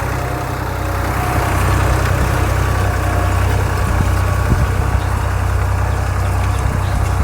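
A tractor's diesel engine chugs steadily while the tractor is driven at a slow pace, a continuous loud low rumble with a faint rattle and no voices.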